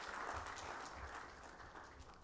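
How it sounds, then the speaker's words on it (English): Audience applause at the 10th annual gastroenterology conference in Bhopal: a steady, fairly faint wash of clapping from a large crowd, lasting the whole stretch without pause. "Give him a big applause."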